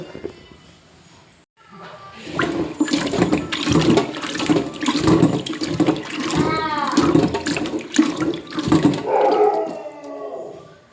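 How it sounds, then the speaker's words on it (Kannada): Cut cluster figs being rinsed in water by hand, giving a steady slosh and splash of water in a bowl that runs for several seconds, close by, with a voice speaking over it. "ಈಗ ಇದನ್ನು 2-3 ನೀರಿನಿಂದ ತೊಳೆದುಕೊಳ್ಬೇಕು."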